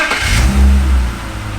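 BMW wagon engine running after repair, a loud, close, deep revving surge that swells and then eases back to a low rumble, with no talking.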